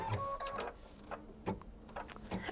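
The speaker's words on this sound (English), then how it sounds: "I'm gonna stitch it directly onto the stabilizer." An embroidery machine stitches a placement line onto stabilizer, giving a quiet mechanical whir with rapid rhythmic ticking and brief motor tones, close and unaccompanied by voices.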